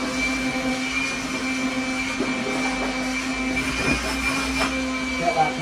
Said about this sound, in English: And then we get the vacuum out.